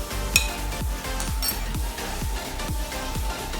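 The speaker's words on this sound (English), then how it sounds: "Once you've whisked in the cocoa powder and the salt" A whisk beats Dutch-processed cocoa powder and kosher salt into brownie batter in a bowl, a steady run of close, rhythmic strokes with light clinks against the bowl and one sharper knock near the start.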